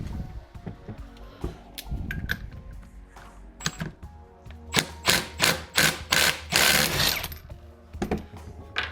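A small impact wrench hammers at an alternator bolt on a 1966 Ford Galaxie with a 289 V8. A few light taps come first, then a close, loud series of rapid rattling bursts.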